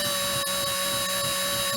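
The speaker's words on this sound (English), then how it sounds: "Okay, we're just going to drill it out." Power drill gently boring out the end of a corner stake on an RV wind-out window, a steady close whine running continuously with a few brief dips in load.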